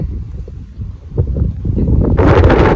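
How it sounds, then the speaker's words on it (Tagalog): Strong wind buffets the microphone in rumbling gusts, swelling into a louder roaring rush near the end. "tingnan nyo naman yung hangin. Ang lakas-lakas."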